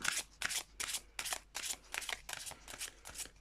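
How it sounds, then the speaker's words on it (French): Tarot cards being shuffled in quick repeated riffling bursts, about eight crisp papery flurries close to the microphone with short pauses between them, no talking. "on va prendre une carte de chaque"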